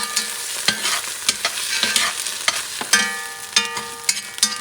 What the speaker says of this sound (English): What I'm going to do, I'm going to mix things around.